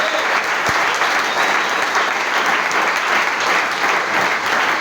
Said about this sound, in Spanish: Aplaude si es para el Señor.